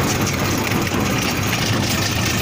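A tractor engine runs steadily at a poultry farm construction site, a continuous low rumbling drone with a constant idling hum and no pauses or talking.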